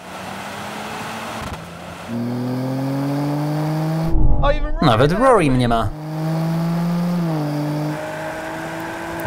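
A Mercedes-AMG C63, BMW M3 and Audi RS4 launch hard together at a race start, engines droning steadily, then surging with a loud rising roar and gear changes before settling into a sustained drone, with talk over it.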